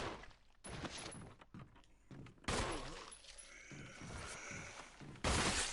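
Gunfire in the Resident Evil video game: several sharp shots and impacts in bursts, with quieter gaps and some background game sounds between them.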